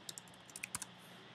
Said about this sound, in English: you're going to type in the search box